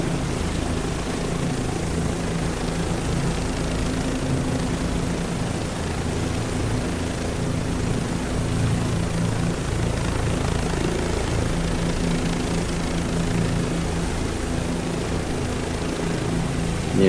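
Helicopter rotor and turbine drone from Microsoft Flight Simulator, flying over the Ukraine front lines, a steady loud thrum with low rotor pulsing that holds throughout with no talk.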